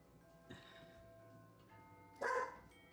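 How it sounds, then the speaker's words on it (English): A dog barks once, a short burst late in a quiet indoor stretch, heard from a little way off against a faint room background. "Your dog's having a moment."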